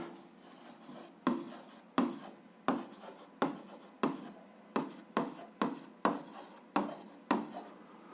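A pen writes an algebra answer on paper, producing about a dozen crisp, close scratching strokes in a regular rhythm, each a short rasp that fades quickly, with no talking.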